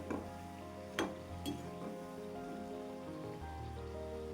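A spoon stirring a mixture sautéing in a pan for a traditional Gauri Ganpati recipe, ladval: a steady soft sizzle throughout, broken by two quick scraping strokes near the start.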